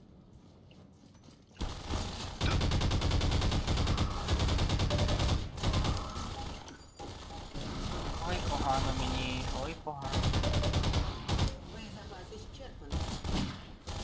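Gunfire in Half-Life 2: Lost Coast rings out in loud, dense bursts and volleys that run almost continuously, broken by brief pauses, with someone talking over the shooting.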